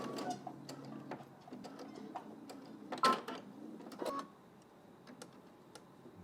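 A home sewing machine stitches a straight line across a skirt, a faint run of quick mechanical ticks and clatter, close by, with a few louder knocks and no talking.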